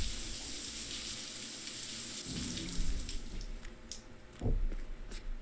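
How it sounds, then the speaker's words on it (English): In the Cyberpunk 2077 video game, a shower in a city flat runs with a steady hiss of spraying water and a few splashes, moderately close and without talk. "Start showering."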